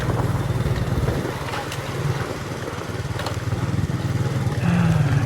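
Engine of a Mustang motorcycle running steadily while riding, a continuous low droning hum with slight rises in pitch, close and fairly loud throughout.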